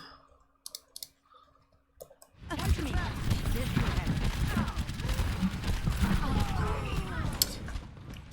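Ana firing her rifle at an enemy Pharah in the Overwatch video game: a few sparse clicks, then a sudden burst of rapid, dense gunfire and combat noise that continues to the end.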